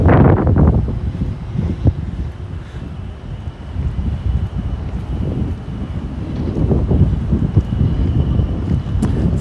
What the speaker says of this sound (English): It's a little bit breezy over here. I don't know if that's probably making the sound kind of bad.